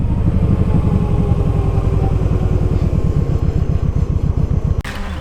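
A Kawasaki Voyager motorcycle on a test drive gives a loud, steady, low engine rumble with a fast, even pulse throughout, then a brief thump near the end.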